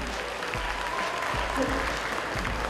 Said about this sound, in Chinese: 我们来一点掌声的鼓励